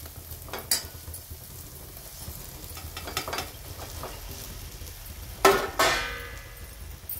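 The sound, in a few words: fried eggplant stirred into sizzling masala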